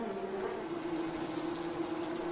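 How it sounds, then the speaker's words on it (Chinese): Wild mason bees hum faintly and steadily at their mud nest outdoors, a continuous buzzing drone across the whole clip. "这些野生壁蜂在蜂巢中装满了花粉和花蜜，并在里面产卵"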